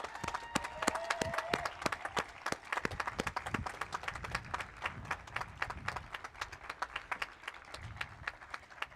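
Medical school graduates at a convocation ceremony clap for their families and friends, a moderate scattering of applause with distinct individual claps at a modest distance, lasting throughout.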